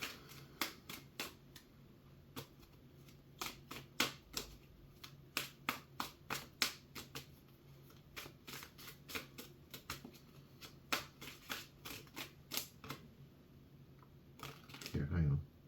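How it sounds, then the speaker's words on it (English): Tarot cards are shuffled by hand in a quiet room, producing irregular sharp riffling snaps and slaps at close range, with softer handling noise between bursts. "Oh, so much shuffling."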